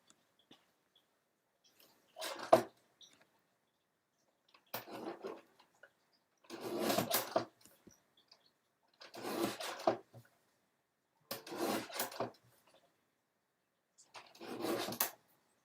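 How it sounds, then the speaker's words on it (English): Card paper trimmed with a paper trimmer: six separate slicing strokes, each a short rasping swish, come a couple of seconds apart, close by in a quiet room. "I'm just going to trim this up."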